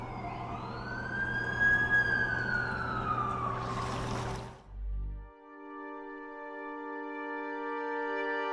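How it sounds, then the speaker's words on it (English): Ambulance siren in the video game The Amazing Spider-Man 2, a loud rising and falling wail up close for about four seconds before cutting off into a steady tonal drone. "That's the ambulance I called."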